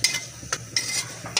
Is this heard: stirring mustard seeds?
yes